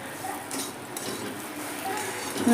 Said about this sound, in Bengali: সবজির সঙ্গেও কিন্তু আমি সুজিটাকে বেশ অনেকক্ষণ ধরে নেড়ে নিচ্ছি